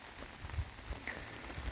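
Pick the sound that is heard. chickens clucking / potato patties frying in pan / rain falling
rain falling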